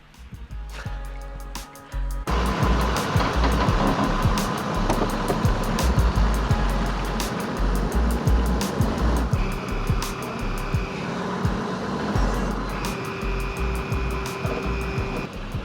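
A van's engine roars as its rear tires spin in soft, marshy mud, a loud sustained churning rush with a rising whine that starts abruptly after a quiet opening and continues unbroken.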